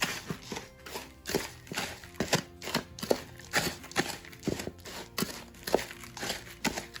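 Potting soil being mixed half and half with perlite by hand, a series of rhythmic gritty crunches and rustles at close range, roughly two per second, with no talking.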